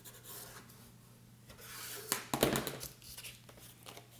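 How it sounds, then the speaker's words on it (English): Scissors rubbed along a paper fold: a soft scraping and rubbing against paper, with a brief burst of louder rasping strokes midway, close up and without speech. "you could use your scissors and just rub it along there"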